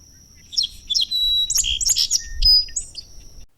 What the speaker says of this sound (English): The song sparrow.